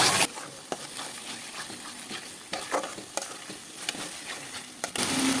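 Spices for a duck curry with coconut milk being sautéed in a pan, a steady close sizzle broken by sharp scraping stirs at irregular intervals, with no talk.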